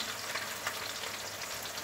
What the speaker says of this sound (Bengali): আমি বাকিগুলো সেমভাবে ভেজে নেব উল্টে পাল্টে লাল করে। একটু কড়া ভাজা করতে হবে